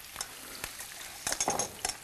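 Pork belly with thyme sizzles and fries in a hot pan, a steady crackling hiss broken by a few sharper spits and stirring scrapes, close and fairly quiet.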